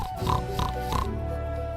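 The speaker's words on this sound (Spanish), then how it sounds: "y los cerdos." A pig gives several short grunting oinks in a rough rhythm, about three bursts within a second, over a steady low background hum, with no talking.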